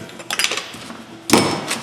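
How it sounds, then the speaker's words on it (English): Metal taps from a hammer working a heated dent in a panel during dent repair: a cluster of light quick strikes early, then a louder single impact with ringing, close and clear. "you want to take your hammer, whatever you've got, and you want to work it in a circle"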